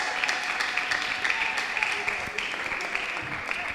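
Applause from a church audience for a woman of faith on a televised Christian talk show, a steady wash of clapping holding at an even level throughout, with voices murmuring underneath.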